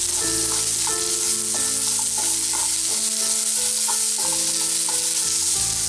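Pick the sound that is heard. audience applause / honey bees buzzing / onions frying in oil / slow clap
onions frying in oil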